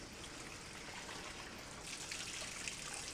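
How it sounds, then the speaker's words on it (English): Strawberries are rinsed under a running tap, giving a steady, soft rush of water that flows without a break and grows slightly fuller near the end, with no talking. "So just a quick wash or rinse before I put it into the water and vinegar bath to soak."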